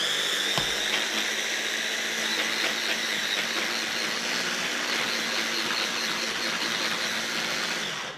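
High-powered blender whirring steadily as it purees cashew nuts into dairy-free mayo, a loud continuous motor whine with a brief jolt near the start and no speech.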